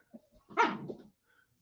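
A single dog gives one short indoor bark, preceded by a faint whimper, alone with no talk.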